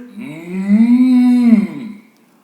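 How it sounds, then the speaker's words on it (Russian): A bull lets out a single long, loud bellow as a fairy-tale sound effect, a deep sustained moo that rises, holds and fades over about two seconds. "Бык как заревел."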